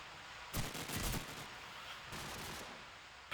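Desert Eagle gunfire during a competitive video game match: a few sharp, punchy shots in quick succession followed by a lingering noisy tail, fairly quiet overall.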